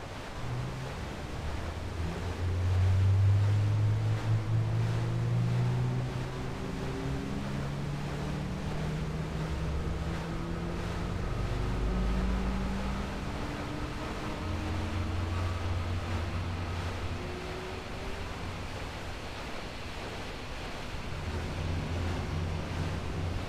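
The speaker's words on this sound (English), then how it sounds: "Now that both engines are running" Twin engines of an F/A-18 Hornet run on an aircraft carrier deck in the FSX flight simulator, a steady low jet rumble with slowly shifting droning tones and a windy roar, with no talking.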